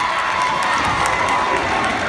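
A crowd cheering and roaring in a stadium at a high school varsity basketball championship game, a continuous loud wash of shouting voices.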